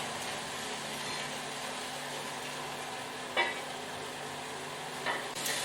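Vegetables for a soup softening in a pot over low heat, a soft steady sizzle with a couple of faint scrapes as they are stirred.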